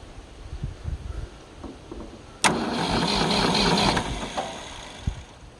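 A 1966 Ford 3000 tractor, sitting unused for a year, cranks with a sudden sharp catch and settles into a rough, close idle for about a second and a half before dying back to faint knocks.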